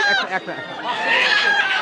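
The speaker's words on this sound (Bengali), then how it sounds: "অরিজিনাল দেশি মোরগ" A native village rooster clucking and squawking in short bursts at a market, close by and fairly loud, with a voice talking over part of it.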